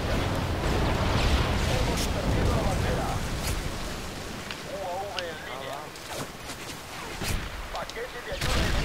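Gunfire in Call of Duty Modern Warfare 3 during an online match, with dense, rapid bursts of shots and explosive cracks running throughout under someone talking.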